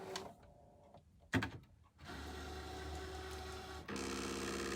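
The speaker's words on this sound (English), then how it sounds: "So the machine is measuring the depth of the mat and aligning the blade" A ScanNCut cutting machine with an auto blade whirs and clicks as it measures the mat and material, with quiet motor hum and small mechanical steps, then a steadier tonal drive sound near the end.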